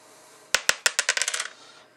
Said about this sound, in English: I'm going to roll a dice